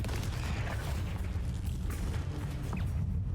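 A fiery Confringo spell explosion in Hogwarts Legacy booms with deep rumbling blasts and scattered crackling pops, loud and continuous for several seconds.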